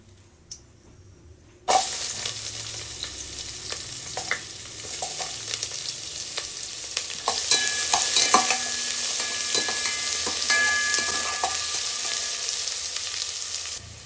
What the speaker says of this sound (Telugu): ఆనియన్స్ అయితే ఫ్రై అయిపోయాయండి